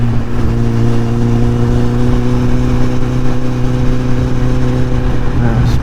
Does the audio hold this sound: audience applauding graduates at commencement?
no